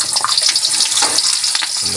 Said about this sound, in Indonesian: Ini bawang merah kita goreng terlebih dahulu.